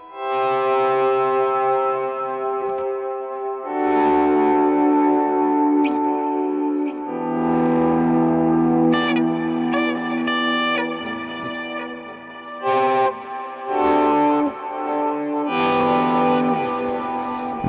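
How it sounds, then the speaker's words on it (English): An electric guitar with a volume-swell effect plays "Carol of the Bells", its notes fading in smoothly and ringing with distortion, chorus and echo, in phrases broken by short pauses and no talk. "Having a good swell sound is a really good thing for just about any kind of theme songs you can do."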